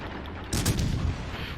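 A battleship's 14-inch main guns firing in World of Warships Legends: after a quiet low rumble, one sharp, loud cannon blast erupts, then a heavy rolling boom trails off, with no talk.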